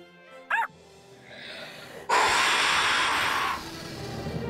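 A cartoon puppy from Bubble Guppies gives one short, sharp bark, followed after a pause by a loud, sustained whooshing magic-potion burst that fades into quieter rustling.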